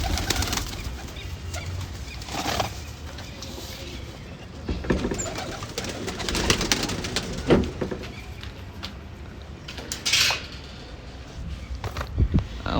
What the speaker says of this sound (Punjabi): ਕਬੂਤਰੀ ਹੈ ਆ ਜਾ ਤੂੰ